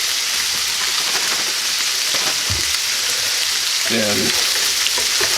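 Peppers and onions fry in a pan with a loud, constant sizzle, broken by scraping and clacking as a utensil stirs them, one brief spoken word over the cooking.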